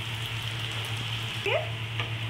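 Semolina fritters fry in hot oil while being turned, giving a soft, steady sizzle over a low hum, with a faint clink or two from the utensil.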